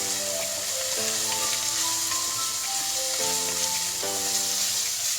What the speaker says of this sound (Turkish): 3 yemek kaşığı da şehriye koydum. Biraz daha kavrulacak.